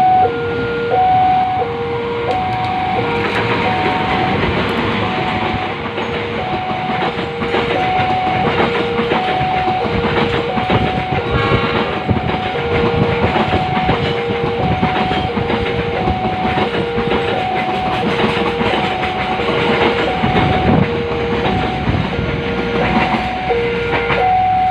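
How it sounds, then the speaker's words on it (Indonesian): An Indonesian Jayakarta passenger train rumbles past loudly and close, wheels clattering over the rails, while a crossing bell dings in a steady two-tone pattern throughout. "Ya, itu dia kereta apinya."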